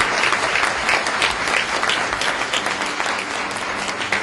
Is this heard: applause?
yes